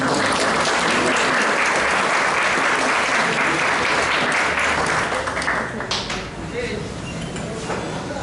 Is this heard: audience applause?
yes